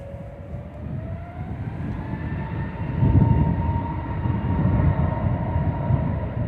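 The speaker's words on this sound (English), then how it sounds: "Behind it, we've got TUI coming in from Cancun" A TUI airliner inbound from Cancun approaches Manchester Airport, a steady engine rumble that grows louder, with faint rising whining tones above it. It sounds moderately distant and no one speaks.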